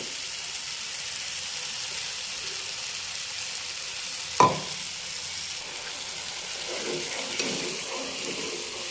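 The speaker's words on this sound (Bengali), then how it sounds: "এবার আমরা খুব ভালো করে মশলাটা একসাথে সব মিলিয়ে ভালো করে কষিয়ে নিচ্ছি" Mustard paste masala for hilsa curry being stirred and sautéed in a pan: a steady soft frying hiss with a sharp utensil scrape midway and light stirring clatter after.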